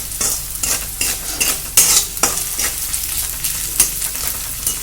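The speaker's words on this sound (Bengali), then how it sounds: "এই নুনটা দেওয়ার ফলে পেঁয়াজটার ফ্রাইং প্রসেসটা আরও ফাস্টার হয়ে যাবে" Onions frying in a pan with salt added, a steady sizzle broken by repeated scraping stirs, close and fairly loud, with no talking.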